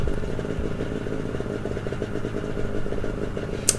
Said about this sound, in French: On va essayer de reprendre la moto.